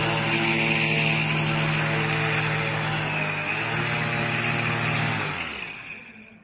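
A homemade fan driven by a brushless motor spins at full throttle, a loud, steady high-pitched whine with strong harmonic tones that holds for several seconds, then winds down and fades out at the end.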